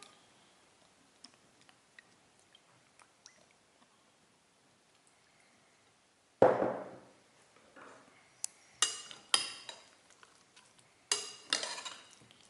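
Chicken pieces and potatoes dressed with extra virgin olive oil are stirred together for an oven bake, a quiet stretch giving way to a sudden scrape and then several close, brisk bursts of mixing and clattering.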